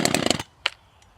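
Zenoah clone 2500 top-handle chainsaw being pull-started: a rapid series of sharp, rattling strokes from the recoil cord lasting under half a second, then a single short click and quiet, close to the listener.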